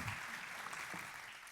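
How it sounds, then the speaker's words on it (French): An audience at a French brand-innovation awards event applauds the winners joining the stage, a dense, even patter of clapping, quiet and brief, with no voices on top. "Et vous pouvez les applaudir en effet"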